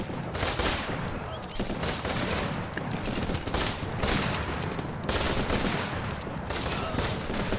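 Gunfire from the Running with Rifles war game, with dense, overlapping volleys of rifle shots that keep coming in rapid pulses. It stays loud and continuous throughout.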